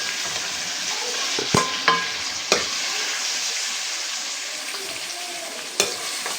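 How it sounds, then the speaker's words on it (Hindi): A mango pickle mixture cooks in a pan, sizzling steadily up close while a spoon stirs it, with several sharp clinks and scrapes against the pan; no talking. "इसको अच्छी तरह मिक्स करके 2-3 मिनट इसको पकाना है बस।"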